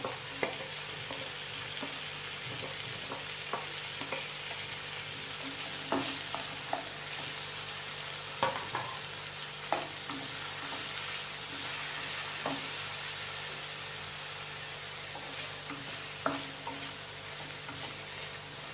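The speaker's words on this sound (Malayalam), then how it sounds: "ടൊമാറ്റോയും കൂടി ഇട്ട് ഒന്നുകൂടി വഴറ്റുക" Tomatoes and onions sauté in a pan for a Kerala tomato drumstick curry, giving a steady close sizzle broken by occasional spoon scrapes and stirring clicks, with no voices.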